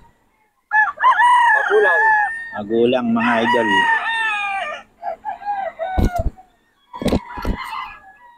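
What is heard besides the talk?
roosters crowing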